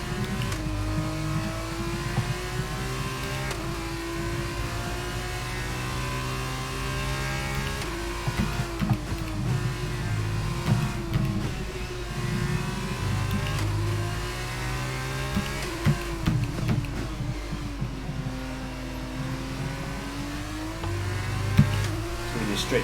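Race cars roar around the Imola circuit in the F1 22 game, a steady loud engine drone with rising and falling revs as cars accelerate up the hill, continuous throughout with a brief sharp spike near the end.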